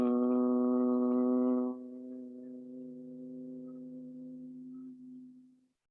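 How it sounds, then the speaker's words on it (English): A person does bhramari humming-bee yoga breathing, letting out one long, steady, close-up nasal hum that softens partway through and fades out as the breath ends. "You inhale deeply and exhale with a humming sound and concentrate on the sound in the middle of the head"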